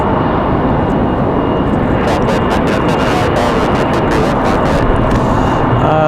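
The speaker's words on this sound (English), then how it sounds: "Southwest 1907, a MAX 8 off to Chicago Midway here in just a moment." A Southwest Boeing 737 MAX 8 departs RDU Raleigh-Durham bound for Chicago Midway, a loud, steady broadband jet roar that holds unbroken throughout, with faint brief higher hiss bursts in the middle.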